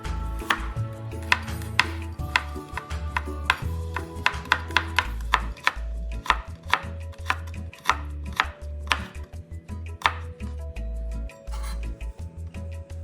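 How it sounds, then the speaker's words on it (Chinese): A knife slices 50 grams of carrot and then cuts it into fine julienne on a board: close, sharp, rhythmic chopping taps in quick runs with short pauses, and no talking. "先切片，再切成丝。"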